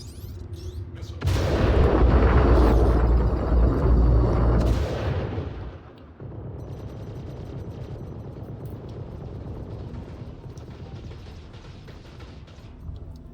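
Missile impacts and explosions in the space game Star Citizen, a loud sustained roaring blast for several seconds that drops off sharply, followed by a lower continuous mechanical rumble with faint clanks.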